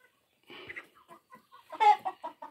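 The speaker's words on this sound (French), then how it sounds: "Aujourd'hui, c'est des poules." Domestic hens give a few short, soft clucks and murmurs close by in a quiet farmyard, spaced irregularly with brief pauses between calls.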